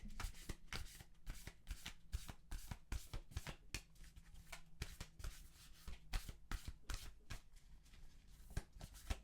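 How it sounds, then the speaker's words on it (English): A Starseed Oracle card deck is shuffled quietly and close up in a long run of quick, crisp riffling flicks, repeated steadily with no voices. "So let me just shuffle and see what comes out."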